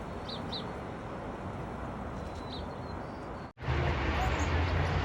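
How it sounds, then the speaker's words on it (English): White-crowned sparrows in a winter backyard give a few short, thin, distant chirps over steady outdoor background hiss, which is followed by a louder, rougher rush of noise. "White crowned sparrows."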